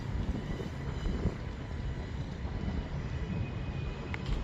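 Strong wind gusts across a microphone outdoors at a model aircraft flying spot, a steady broadband rumble and roar with no speech, continuous for the whole stretch.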